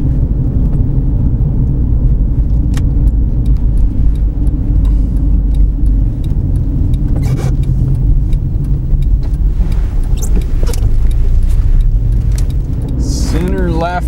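Road traffic rolls past behind a car approaching a center turn lane, a loud, constant rumble of engines and tires heard from inside the vehicle, with brief higher whooshes near the end.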